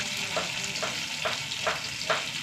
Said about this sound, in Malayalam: 2 വറ്റൽമുളക്, ഉള്ളി നന്നായി മൂത്ത് വെക്കാൻ.